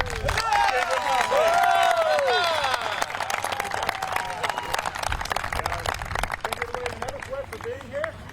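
Crowd applause and cheering at a vintage baseball game on Mackinac Island, a dense wash of clapping with voices rising over it, fading after a few seconds into scattered claps and chatter.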